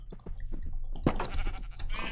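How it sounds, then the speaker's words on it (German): A sheep in the Minecraft video game bleats once, a short nasal game sound amid other soft in-game noises and clicks, fairly close and clear. "Ein Schaf ist entbüxt."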